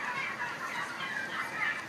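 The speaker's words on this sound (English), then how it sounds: "watch the turkeys as they move along here, they're eating right out of those" Turkeys on a turkey farm crowd around feed pans, giving off a steady chorus of gobbling and clucking calls that runs without pause for the whole stretch, moderately loud and close, with no talking over it.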